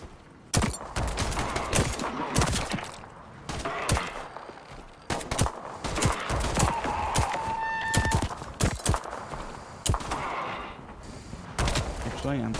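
Gunfire in the game Voidtrain, rapid bursts and single loud shots in close, irregular clusters, with someone talking between and over the shooting.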